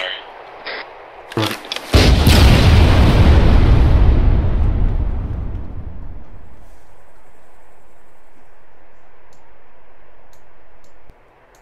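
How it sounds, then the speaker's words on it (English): Arma 3 squad target practice in a video game: a few sharp gunshot cracks, then a loud booming explosion with a long rumbling tail fading into a steady low roar. "you guys are free to fire, and then once the guy to your left has fired, you're free to fire on following targets"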